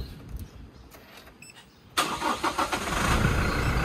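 A Toyota Fortuner TRD starts up: a quiet interior hum, then a sudden crank and catch about halfway through, settling into a steady, louder engine idle heard from close by.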